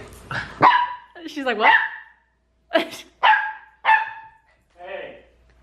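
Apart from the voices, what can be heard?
dog barking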